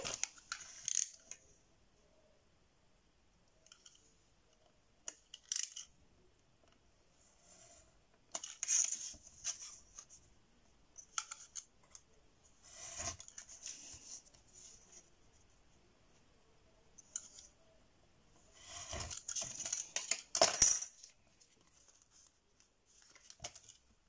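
A utility knife with a dull blade scores and slices through cardboard in short, faint scraping strokes separated by quiet pauses, with a louder burst of cutting near the end.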